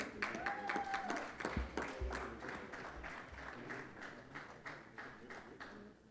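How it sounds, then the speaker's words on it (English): Audience applause at a teachers' association annual conference awards ceremony in Jamaica, a dense spread of hand claps holding steady for several seconds, with a few voices mixed in underneath. "Colleagues, keep the applause going."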